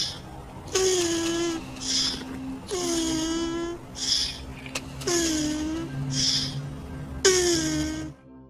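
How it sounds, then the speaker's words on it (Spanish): A turtle vocalizes in drawn-out, wailing calls, several long moaning notes separated by short pauses, each starting with a rising glide, moderately loud and close with no talk. "aunque parezca desganada, es una tortuga dándolo todo"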